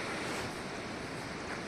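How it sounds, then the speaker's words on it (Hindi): Fast, high-flowing mountain river in Spiti Valley, a steady, loud broadband rush of water with some wind, continuous and close throughout with no talk. "नदी का फ्लो बहुत हाई में है भाई"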